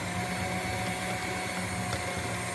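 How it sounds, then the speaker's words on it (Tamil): An electric mixer beats chocolate cake batter in a continuous, steady, close whirring hum with no pauses or voices. "இப்போ 1லேருந்து 2 நிமிஷத்துக்கு கட்டிகள் எல்லாம் நல்லா பீட் பண்ணி எடுத்துக்கலாம்."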